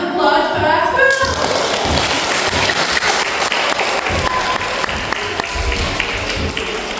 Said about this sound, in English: round of applause for our school